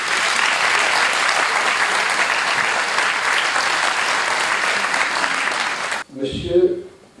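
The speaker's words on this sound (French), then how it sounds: "on applaudit bien fort ces consuls." A town hall audience at the mayor's New Year wishes ceremony in Milhaud applauds the consuls of a local bull-raising manade, loud dense clapping filling the room for about six seconds before cutting off, followed by a brief voice.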